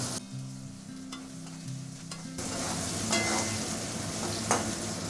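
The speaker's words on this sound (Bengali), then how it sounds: "পেঁয়াজটা এবার ভেজে নেব।" Chopped onions frying in mustard oil with whole garam masala (cardamom, cloves, cinnamon) for a Bengali pointed gourd curry, a loud continuous sizzle close up with occasional stirring scrapes, and no talk.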